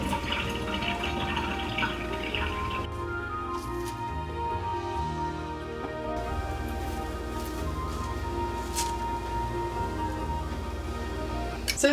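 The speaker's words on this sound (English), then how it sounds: "The best way to wash strawberries is to wash them under gentle cold water for 10 to 20 seconds." Fresh strawberries rinse under a gentle stream of cold tap water, a soft, continuous patter and trickle at low volume, heard close up and alone.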